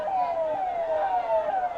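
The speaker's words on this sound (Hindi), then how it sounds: "ये आपको देखिए सायरन बजने लगा है" A civil defence air raid siren wails steadily during a blackout mock drill in Patna, with a slowly falling, repeating pitch sweep, loud and continuous throughout, with traffic noise faintly underneath.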